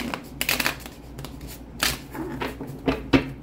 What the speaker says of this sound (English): 2 more shuffles for the Earth sign.